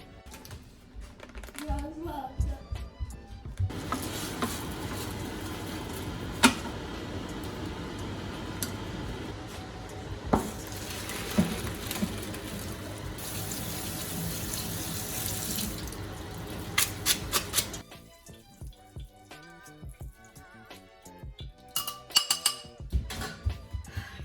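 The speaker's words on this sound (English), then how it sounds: "Now I'm just straining it through a strainer to remove any of the spices or seeds that are remaining." Chicken pho broth poured through a strainer, a continuous splashing gush of liquid with clattering clicks from the strainer and bowl, loud and close, easing into scattered drips and taps at the end.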